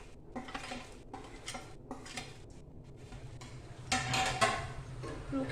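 Fried flattened rice and peanuts being mixed in a pan over a low flame, heard as a series of close scraping and clinking strokes of a spoon against metal, each stroke short and quiet.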